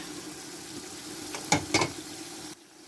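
Tomato pieces dropped into a hot cooking pot, an ongoing sizzle broken by two sharp louder bursts as the pieces land, then a sudden drop in level.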